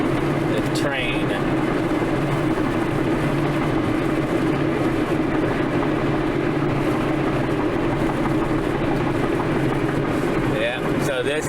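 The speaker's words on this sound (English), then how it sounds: "The train." A continuous low rumble of a passing train fills the scene, steady and loud, with faint road noise mixed in.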